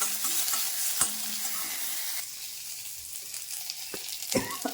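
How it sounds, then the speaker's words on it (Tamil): Neem flowers frying in a pan with steady hiss and sizzle, a few clinks and scrapes of stirring, fairly close and moderately loud, no talking. "வேப்பம்பூ போட்டு அதையும் வதக்கி விட்டுட்டு"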